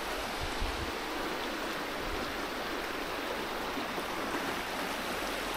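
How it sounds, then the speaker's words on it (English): River flowing beneath a small bridge on a fell walk, a continuous broad rushing of water, steady and fairly close, with no voices. "this is a nice little bridge across the river"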